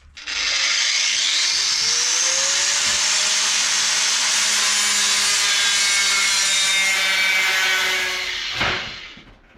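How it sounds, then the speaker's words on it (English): An angle grinder with a slitting disc cuts through the sill panel of a Land Rover Discovery 3, giving a loud, continuous, high-pitched shriek. The pitch rises slightly as the blade bites, and the cut ends with a sharp scrape as the disc winds down. "now we'll cut that out with the angle grinder and the slitting disc"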